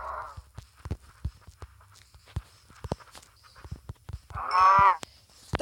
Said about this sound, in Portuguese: Mais uma vaca.